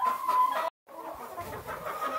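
Homestead chickens cluck on a farm, a few close throaty clucks, then a brief silent gap before softer scattered clucking resumes.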